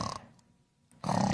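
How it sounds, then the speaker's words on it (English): Two loud, rasping snores from a cartoon fire truck are separated by a quiet pause. Each snore is a rough, throaty roar. "Snoring! Snoring?"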